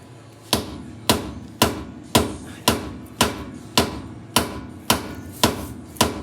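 A hammer knocks at the front differential plug of a 1999 Jeep Cherokee XJ, a dozen evenly spaced sharp metallic whacks about half a second apart, close and clear with no voices.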